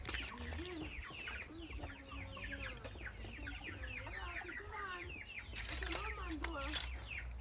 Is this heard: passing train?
no